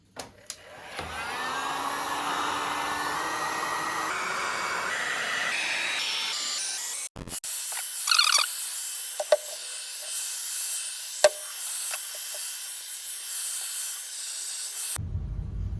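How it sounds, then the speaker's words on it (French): A heat gun blows a steady, loud hissing stream of hot air around a car headlight for several seconds, then cuts out, followed by scattered clicks and light handling noises before the roar returns briefly at the end. "on va venir chauffer toute la partie autour avec le décapeur"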